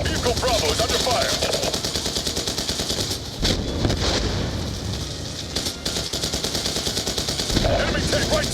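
Sustained automatic gunfire from a Black Ops 2 battle, rapid rhythmic bursts nearly continuous throughout with a couple of heavier booms, loud and dense.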